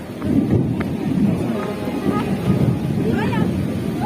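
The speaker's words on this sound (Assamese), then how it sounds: "বৰষুণ আহি গ'ল, এতিয়া ছাতি নাই লগত।" Steady rain with a low rumbling wash, close and continuous, with faint voices and wind buffeting beneath it.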